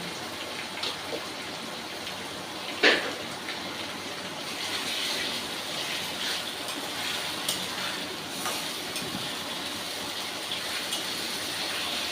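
Water pours from a rinsed mixer jar into a pan of ginger, garlic and green chilli for Bengali egg curry, a soft, steady gushing and trickle with a brief clatter near the start.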